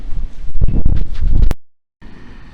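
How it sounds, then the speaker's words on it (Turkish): Loud gusty wind in the countryside buffets the microphone in rough bursts, cuts out abruptly, then returns as a softer steady rush. "Çok rüzgar var."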